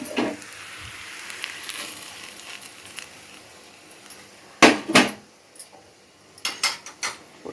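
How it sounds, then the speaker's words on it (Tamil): Sautéed onion tempering stirred into spinach greens (pasalai keerai) in a pan: a soft low sizzle, then a cluster of loud spoon clanks and scrapes against the metal. "போட்டு நல்லா கலக்கி விடுங்க."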